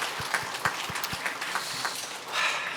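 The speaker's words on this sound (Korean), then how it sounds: "따뜻한 박수 부탁드립니다." Applause from a church congregation honoring district leaders after their special hymn, a broadband wash of clapping with a few distinct low thumps, filling the space at moderate level and swelling slightly toward the end, with no voices.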